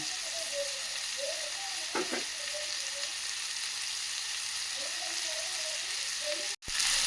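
Steady sizzle of frying in a pan while making bun dosa without lentils, continuous close hiss with a brief scrape near the middle and a sharp clatter near the end.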